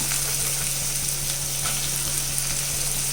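Chopped cabbage and light-brown onion fry in a pan over a high flame, giving a steady, loud sizzle with faint stirring underneath and a constant low hum in the background.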